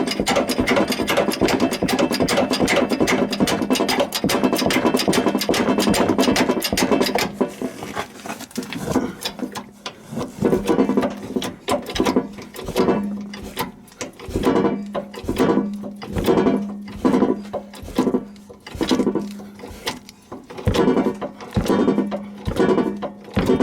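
Bottle jack being pumped under a Volvo VNL 780 truck with a blown front axle air bag, a steady run of repeated mechanical clicks and knocks, close and fairly loud, following a denser stretch of clattering activity.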